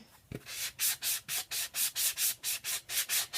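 Hand sanding along the edges of a mounted picture, a steady run of about a dozen rhythmic rasping strokes, close and fairly loud, with no talking.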